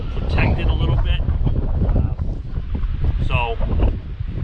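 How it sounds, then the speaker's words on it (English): Strong southerly wind gusts across Lake Champlain and buffets the microphone with loud, continuous low roaring, while someone talks over it. "So we got a strong wind, 25 out of the south, gusting higher, as you can probably tell."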